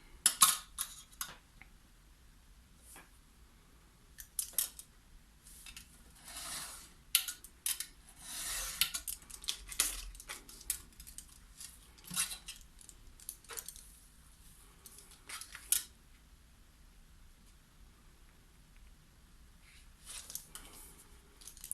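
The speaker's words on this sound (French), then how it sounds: "je coupe au ras du gabarit" Scissors trimming the excess of a laminated paper notebook cover flush along a template, a run of short crisp snips and rasping cuts, close and fairly quiet, with pauses between bursts and no talking.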